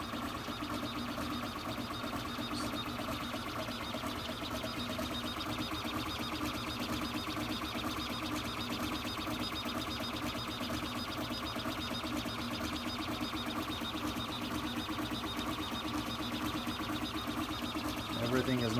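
HevORT CoreXY 3D printer with MGN rails printing at high speed, its stepper motors humming and whirring in a steady, rapid buzz with faint rhythmic ticking, sustained and close.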